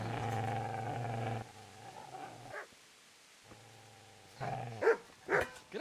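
A dog in the medieval game Kingdom Come Deliverance, close by, giving a low sustained growl and whine that fades, then a burst of sharp yelping barks near the end.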